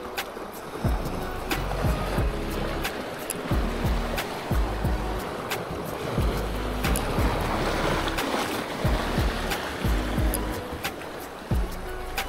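Water waves slapping and lapping against the hull of a small boat at sea, a continuous splashy wash with irregular knocks and thumps, fairly close, under a steady low engine-like rumble.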